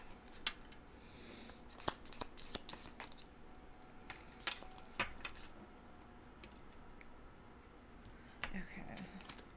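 Tarot cards being shuffled by hand, a series of soft, crisp riffling clicks and taps in irregular bursts over a faint room hiss, fairly close and quiet.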